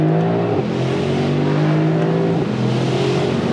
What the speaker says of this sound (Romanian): Facem o depășire.